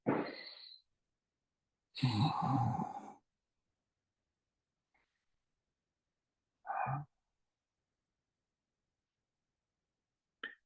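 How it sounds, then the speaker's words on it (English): Several slow, deep breaths during a yoga session, each an isolated audible inhale or exhale separated by quiet pauses, close and fairly soft. "Let's hear 2 deep breaths."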